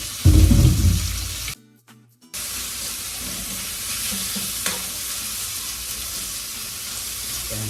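Tomatoes hit a hot pan for ginisang ampalaya with pork: a loud stirring scrape at the start, a brief silence, then a steady close sizzle of sautéing that runs to the end, with no speech.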